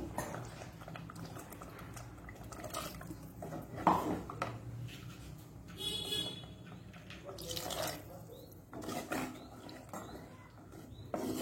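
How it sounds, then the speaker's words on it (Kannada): A glass of water is poured into a pot of Mangalore-style sole fish masala curry, giving soft, quiet splashing and trickling with a light clink of the vessel, all faint and close. "ಇನ್ನು ಸಹ ಸ್ವಲ್ಪ ನಾವು ನೀರನ್ನು ಹಾಕೊಳ್ಬಹುದು. ಸ್ವಲ್ಪ 1 ಲೋಟದಷ್ಟು ನೀರು"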